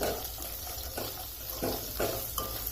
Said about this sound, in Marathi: एक मीडियम साईजचा बारीक चिरलेला कांदा कांदा पण थोडासा परतवून घ्यायचा